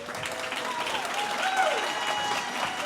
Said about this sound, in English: Let's have a round of applause for both candidates before we wrap up here.